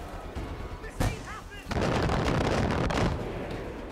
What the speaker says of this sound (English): Oh, they're bombing us!